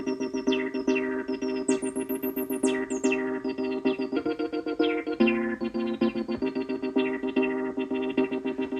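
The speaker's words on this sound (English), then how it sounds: "We get those chirps from the classic chirps from the resonance." Squelchy TD-3 synth bassline repeats in a steady pulse while resonant 303 filter sweeps rise and fall into bright, whistling chirps, with a gritty, distorted edge.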